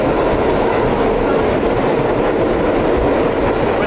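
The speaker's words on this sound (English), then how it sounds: "New York City subway life." A New York City subway train rides the rails, giving a loud, steady, close rumble with continuous rolling wheel noise and no speech.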